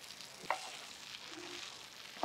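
Faint, soft sizzling of fried prawns in a pan for prawn Manchurian, a low steady hiss with a couple of small clicks from a utensil.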